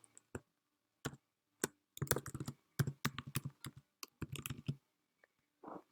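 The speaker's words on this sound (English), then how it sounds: "after I type href" Someone types on a computer keyboard while writing HTML, with irregular bursts of close, crisp key clicks separated by short pauses.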